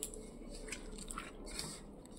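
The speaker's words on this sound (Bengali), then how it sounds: "অল্প অল্প করে জল দিয়ে মাখছি।" Flour dough being kneaded by hand with ghee and water, soft squishing and sticky pressing sounds close up, steady and fairly quiet with small wet smacks throughout.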